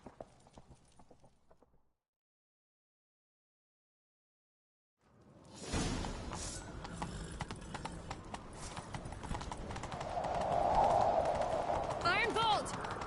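After a stretch of silence, horse hooves break into a steady galloping clip-clop that continues loudly beneath other game sounds in The Witcher 3: Wild Hunt.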